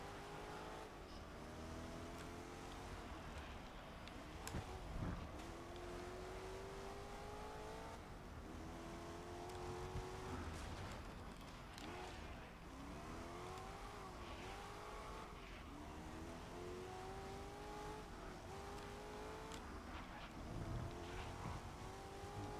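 An older McLaren single-seat race car in the Grid Legends racing game roars steadily throughout, its engine rising and falling through gear changes with rhythmic revving sweeps and occasional tire squeal, loud and continuous with no talking.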